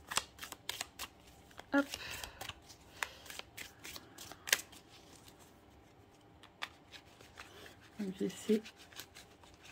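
Tarot cards are shuffled by hand in repeated quick riffling bursts, close and fairly quiet, with brief pauses between, while someone speaks a few words over them.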